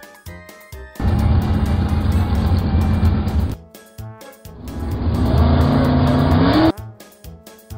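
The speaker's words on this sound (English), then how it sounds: "Follow me car." Cartoon airport follow-me car driving in two loud sustained bursts of engine roar, the second rising in pitch as it accelerates, separated by short quieter gaps.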